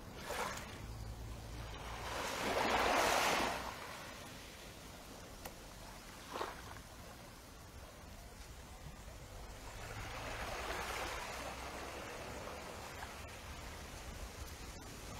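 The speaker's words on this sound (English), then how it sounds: "the sea is so gentle this morning. It's barely lapping on the shore." Gentle sea waves lapping on the shore at daybreak at Port Ferdinand: soft, steady wash with two slightly fuller swells rising and fading, faint and calm with no talk.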